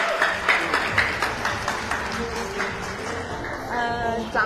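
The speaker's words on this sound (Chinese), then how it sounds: "我们现在让掌声欢迎军中情人，我的好朋友，来，张志伟。" Audience applause at a charity film press conference greets a guest, a steady crowd of clapping hands sustained throughout with some voices mixed in.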